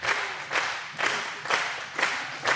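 Audience applause at a live performance, arriving as four or five rhythmic swells of clapping, each building and fading about every half second, moderately distant with no voices.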